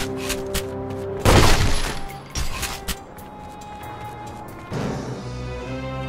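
Gunfire rings out in The Godfather video game, a loud burst of shots followed by a few more sharp reports and clatter over steady game ambience, with little speech.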